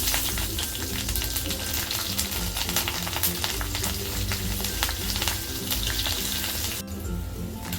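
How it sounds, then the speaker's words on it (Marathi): Cumin seeds sizzle loudly and steadily in hot ghee, a dense, continuous close-up frying hiss with no talking, easing slightly near the end. "तूप गरम झाले की त्यात जिरा टाकून घ्यायचं।"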